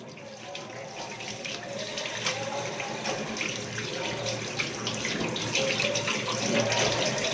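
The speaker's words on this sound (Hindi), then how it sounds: "अच्छी तरह से हाथ वॉश करें, सोप का ज़रूर इस्तेमाल करें।" Water runs steadily from a tap as hands are washed in a restaurant washroom, a continuous close splashing rush with light rattling, no talk over it.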